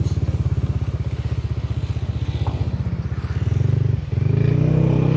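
A Chinese-made motorcycle, an RT3s, being ridden, its engine thrumming in a steady pulsing drone close to the rider, briefly dipping before revving up again.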